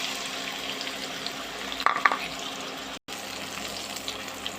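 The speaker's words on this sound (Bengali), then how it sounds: "এখন দিয়ে দেব কেটে রাখা পেঁয়াজ।" Chopped onions fry in hot oil in a wok, a dense steady hiss with a brief clattering splash near the middle and a short drop-out later.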